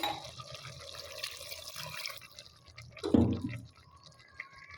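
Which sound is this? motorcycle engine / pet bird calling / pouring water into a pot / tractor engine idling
pouring water into a pot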